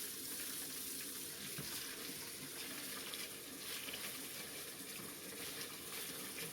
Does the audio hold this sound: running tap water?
yes